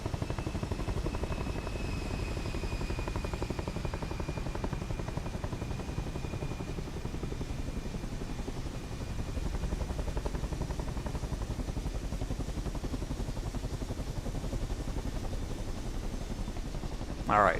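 Chinook helicopter in Microsoft Flight Simulator 2024, a steady droning rotor chop and turbine whine running continuously at even loudness, with no talk over it.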